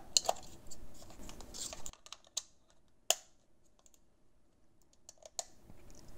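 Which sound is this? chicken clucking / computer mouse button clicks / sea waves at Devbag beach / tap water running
computer mouse button clicks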